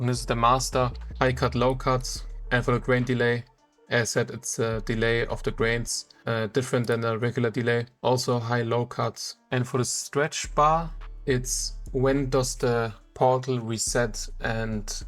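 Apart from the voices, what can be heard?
No everyday noise stands out behind the speech.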